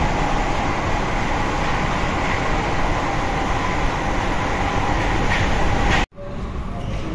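Metro train running on rails, a loud, steady close rumble with rattling and rushing noise throughout, cutting off abruptly near the end.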